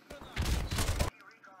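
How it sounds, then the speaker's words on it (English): Sustained burst of automatic gunfire from a hard-recoiling gun in the video game Modern Warfare Remastered, loud and continuous for about a second before cutting off. "This gun is hard to use. The recoil is insane."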